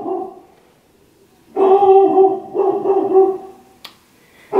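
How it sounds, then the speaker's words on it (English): A dog indoors lets out a couple of loud, drawn-out barks with a whining, howling edge, then falls quiet before starting again at the end. "Pause for my dog to quit barking."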